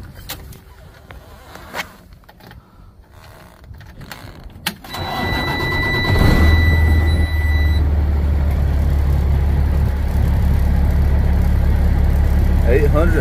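A truck with a CAT C13 engine idles, a steady low rumble that starts after a quieter stretch and holds loud and close with a faint whine on top, alone without talk.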